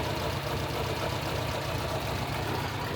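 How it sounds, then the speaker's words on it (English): A Datsun 1200 ute with an originally turbocharged motor idles at about 900 RPM after carburettor adjustment, giving a steady low rumbling throb that stays even and continuous with no voices. "I did play with the idle a little bit tonight, so it seems to be idling pretty good."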